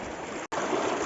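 Clean, shallow stream water runs steadily at a family bathing spot in Valparai. It makes a continuous close rushing wash with a brief cut in the middle.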